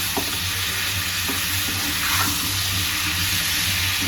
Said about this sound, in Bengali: তো এখানে এটা আমি একটু মিক্স করে দিচ্ছি এখানে।